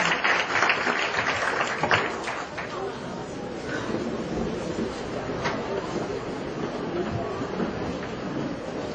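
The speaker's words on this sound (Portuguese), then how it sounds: "Vamos dar uma salva de palmas" Applause from a church congregation welcoming a regional bishop at a new church's inauguration night, a dense steady wash of clapping that carries through the whole stretch at even loudness, with crowd noise mixed in.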